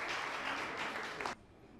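Brief applause from a quiz-contest audience, soft and distant, holding steady for just over a second before cutting off abruptly into near silence.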